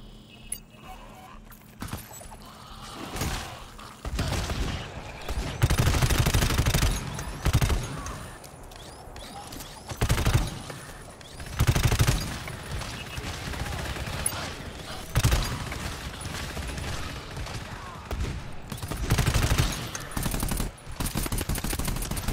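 Automatic pistol and RPG fire during a GTFO shooter match, with bursts of rapid gunfire and heavy blasts recurring in loud waves across the clip and no talk over them.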